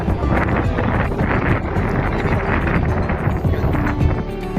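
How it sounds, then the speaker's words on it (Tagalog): Strong wind blowing outdoors on a Toronto street, a loud, steady broadband rush with gusty buffeting on the microphone lasting the whole stretch, no speech over it. "Lakas ng hangin"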